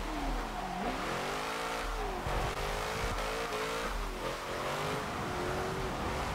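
A Nissan 370Z drift car engine revs hard and steadily in a racing video game, its pitch sweeping up and down as the throttle is worked, loud and continuous throughout with no talking.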